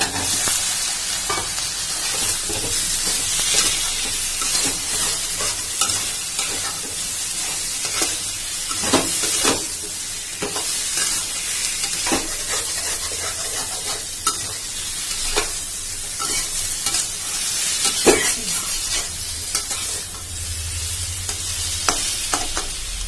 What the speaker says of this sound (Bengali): আলুর দম মশলা দিয়ে আবার এটাকে ভালো করে নাড়াবো